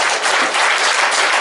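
A lecture hall crowd at a leaders' academy forum bursts into applause, a loud, dense wall of clapping sustained through the whole moment.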